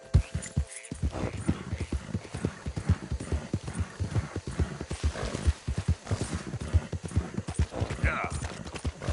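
A horse galloping in Red Dead Redemption 2, with rapid, steady hoofbeats running throughout, loud and close, and a voice speaking over them at times.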